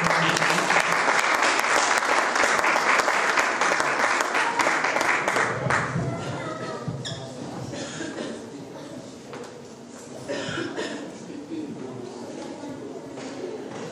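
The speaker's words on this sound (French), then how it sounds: "Est-ce qu'on peut les applaudir pour Christ?" A church congregation at a Christmas Eve service claps in a dense burst of applause for about six seconds, then it thins out into scattered claps and murmuring voices.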